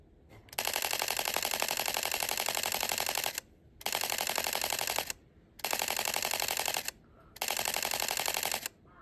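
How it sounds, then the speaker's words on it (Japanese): Canon EOS R50 mirrorless camera shutter firing in continuous burst mode: four long, rapid machine-gun-like runs of clicks, each a few seconds long, separated by brief pauses, close and loud with no talking. "今シャッター押しっぱなしですね。"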